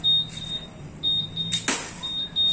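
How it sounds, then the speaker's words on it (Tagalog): An alarm on a Honda Click scooter goes off, a repeating high electronic beep in short pulses, broken once by a sharp click, with no talking. "ngayon, nag-a-alarm na"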